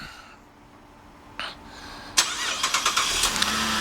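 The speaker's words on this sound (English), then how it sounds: "one of the many features in this vehicle is a remote start" A 2011 Cadillac SRX starting by remote start, heard outside: a brief click, then the engine cranks and catches with a sharp rise, settling into a steady idle, close and fairly loud with no voices.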